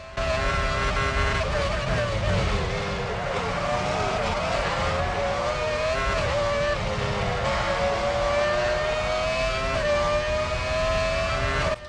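A Formula 1 car from the F1 2006 racing game on a qualifying lap, its high-revving engine droning loudly and steadily, pitch sliding up and down through gear changes, with faint tire noise underneath.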